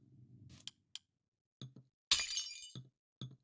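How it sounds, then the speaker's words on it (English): Glass blocks shattering in the modded Minecraft pack Craftoria, several separate crisp breaking sounds in quick succession, one longer louder crash in the middle, alone without talk. "I hate the sound of glass breaking."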